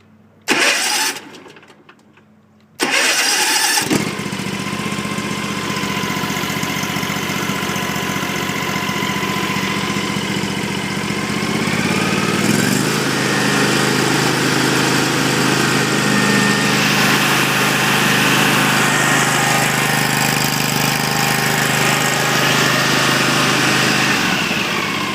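Hustler Raptor 42-inch riding lawn mower engine cranks after a couple of brief tries, catches, and settles into a steady, loud idle that holds close by for about twenty seconds with no talking.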